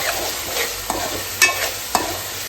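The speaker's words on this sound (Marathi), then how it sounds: "तेल मस्तपैकी सोडलेलं आहे छानपैकी त्याच्यामध्ये मी टाकून घेते मटर" Green peas tipped into hot oil with a cooked paste in an Indian home kitchen, a loud steady sizzle with a few stirring scrapes and clinks of a spoon against the pan.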